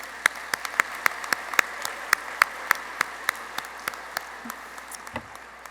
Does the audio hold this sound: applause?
yes